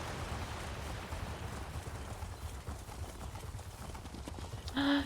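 Continuous clip-clop of horse hooves trotting, steady and fairly close, ending with a short tonal chime, in a video game in Cyrodiil.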